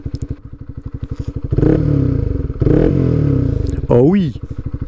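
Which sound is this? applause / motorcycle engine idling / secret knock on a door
motorcycle engine idling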